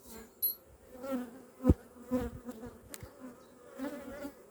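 Honeybees buzzing around an open hive at an apiary, with many drones present in stormy weather: a close, wavering hum with individual bees passing near and fading.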